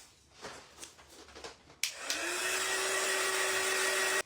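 A handheld craft heat tool starts with a click and whooshes into a steady loud blowing hiss over a stenciled, painted wooden sign, after a few soft handling taps.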